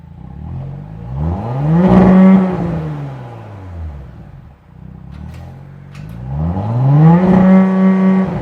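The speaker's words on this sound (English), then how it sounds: "Just cruising around, you hear a little bit of, you know, that V6 engine, and it sounds pretty damn good." A 2018 Audi S5 with its V6 engine cruises along, the engine note swelling and falling twice as it pulls through the revs, smooth and moderately loud from inside the well-insulated cabin, with no talk.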